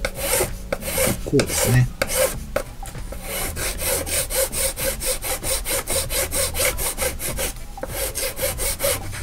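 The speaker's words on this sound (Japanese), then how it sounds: "硬い方からこうヤスリがけしてあげた方が、最初の時がね力が強く入ると思うので" A file rasps back and forth over hardened putty on the base of a tank diorama, with steady rhythmic strokes close up, preceded by a few scattered scrapes and clicks.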